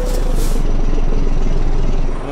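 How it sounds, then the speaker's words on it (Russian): Simulated Ford Aeromax truck engine revving in Euro Truck Simulator, a steady loud diesel roar held at high throttle for a couple of seconds with no pauses. "Вот такой вот звук у нас газования"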